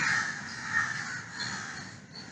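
Several crows caw outdoors in overlapping harsh calls at moderate distance, forming a steady raucous chorus with no talk.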